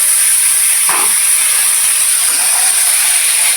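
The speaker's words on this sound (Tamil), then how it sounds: "இப்போ நம்ம சிக்கனை போட்டுக்கலாம்" Chicken for a salt-style chicken curry drops into a hot pan, setting off a loud, steady hiss that fills the whole moment, with one brief clatter early on.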